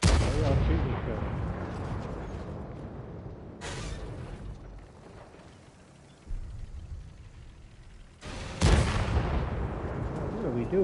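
Tank cannons boom in a World of Tanks match: three loud, heavy shots spaced several seconds apart, each with a long rumbling decay, over a low background of game sound.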